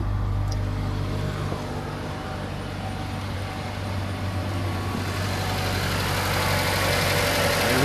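A 2007 Mazda 6 engine runs steadily at idle after a starter replacement, a loud, close, continuous mechanical hum with no talking.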